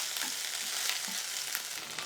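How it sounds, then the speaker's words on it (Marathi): Crushed ginger and green chilli thecha sautés in a pan with a constant close sizzle and soft stirring scrapes, and no voices. "आता हा ठेचा चांगला परतूया."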